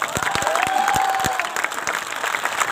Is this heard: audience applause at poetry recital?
yes